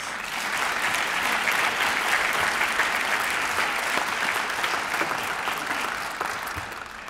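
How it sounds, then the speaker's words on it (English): Sustained audience applause honoring outstanding teachers at a Waco ISD awards evening, a steady dense wash of clapping that holds for about six seconds before thinning slightly near the end. "Let's give them a round of applause."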